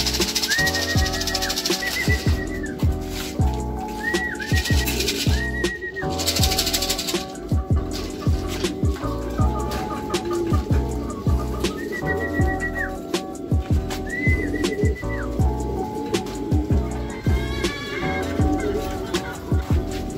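Racing pigeons coo and flutter close by, mixed with a steady mechanical rattle and repeating electronic-sounding tones throughout.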